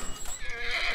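A horse neighs in The Last of Us, a short whinny rising over a steady game ambience, close and fairly loud, with faint hoof clip-clop underneath.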